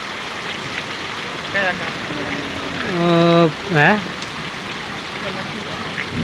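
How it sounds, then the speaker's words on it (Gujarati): Heavy summer rain with hail pours down steadily in Vadgam, Patdi taluka, Surendranagar district, a constant hiss under a voice calling out and speaking in short bursts midway. "લગભગ એક કલાકથી પડે છે વરસાદ જબરજસ્ત વરસાદ પડે છે અત્યારે ઉનાળામાં"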